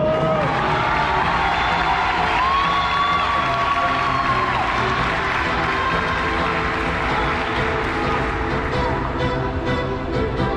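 A large crowd claps and cheers steadily throughout a medal ceremony at Mexico's 2021 CONADE national games in Cancún, a dense continuous wash of applause with scattered shouts and whoops.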